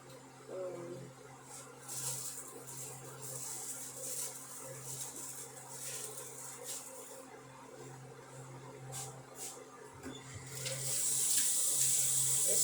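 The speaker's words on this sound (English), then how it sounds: "and I'm gonna add a little water." Water runs and splashes steadily into a container, a soft continuous trickle close by that grows a little louder toward the end.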